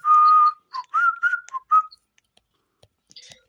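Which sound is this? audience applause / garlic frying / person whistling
person whistling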